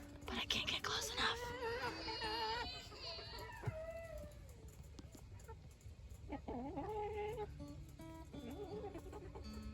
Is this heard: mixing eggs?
no